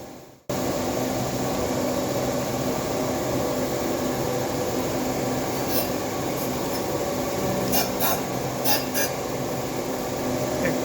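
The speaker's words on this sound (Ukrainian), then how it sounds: "Зараз закріпляюсь і будемо починати шліфувати." Steady, loud abrasive grinding on an exhaust manifold flange drones on without pause, with a few brief higher scraping flickers near the end.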